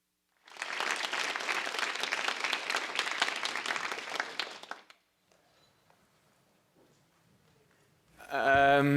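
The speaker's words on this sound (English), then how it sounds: "a round of applause for the panel" Audience applause for a panel at an urbanization and poverty research conference: a loud, dense burst of clapping lasting about four seconds, then near silence with faint room noise, before a voice begins at the end.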